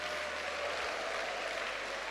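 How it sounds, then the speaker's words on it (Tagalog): Weak, scattered clapping from a church congregation, a soft even patter of hands held at a low, constant level throughout. "Mahinang pumalakpak mga tao rito."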